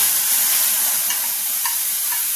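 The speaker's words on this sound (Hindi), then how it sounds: "अब डालेंगे इसमें हींग। हींग के साथ ही हम डाल देंगे इसमें थोड़ा सा खड़ा जीरा, और अब ये देखिए हम डाल देंगे इसमें ये जो हमारी मिर्ची।" Green chilies tipped into hot oil with asafoetida and cumin seeds for chili pickle, a bright, steady hiss of frying that stays loud and close throughout with a few faint clicks, no talk.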